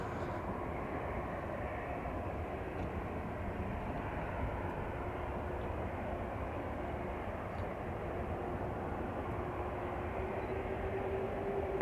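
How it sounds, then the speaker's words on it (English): A steady, loud jet roar from an Atlas Air cargo jet making a full-length takeoff roll at Chicago O'Hare, holding constant for the whole stretch with no speech over it. "Looks like Atlas is going to have a full-length takeoff here."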